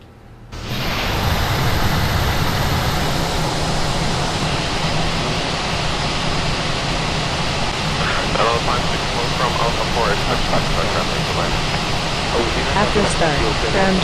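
Airbus A320 engines spooled up and running after start in the Fenix flight simulator, a loud, steady broadband roar that fades in quickly and holds constant, with faint voices underneath near the end.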